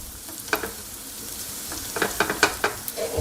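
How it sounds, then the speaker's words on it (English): Salted butter sizzles and crackles in a pan over medium heat, a soft continuous frying hiss broken by scattered pops and scraping stirs, close and fairly quiet. "I'm using regular salted butter that we're going to add now. Get that melted in."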